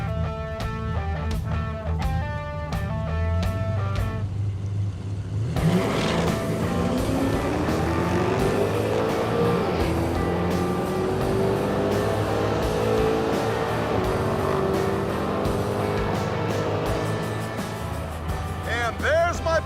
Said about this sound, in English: this sounded like it was misfiring